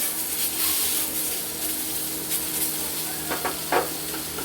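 Hilsa fish tail pieces fry in a pan until crispy, giving off a continuous bright sizzle and hiss, with a few spattering pops and faint stirring scrapes near the end.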